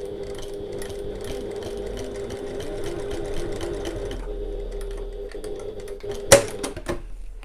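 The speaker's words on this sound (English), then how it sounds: "lift your presser foot and pivot, and sew along the line" A sewing machine stitches along a line on an oval fabric bag, its motor whirring steadily for about four seconds before slowing and stopping, followed by a sharp click and a few light handling noises.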